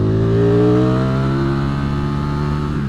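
A Ducati V4S motorcycle engine revs loudly and close, a rich sustained roar holding at mid-revs and then sagging slightly in pitch as it settles.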